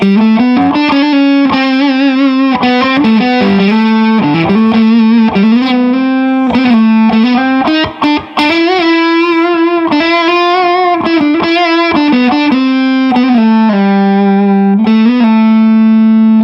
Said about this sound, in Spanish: me gusta más la posición 2 que la 4 con distorsión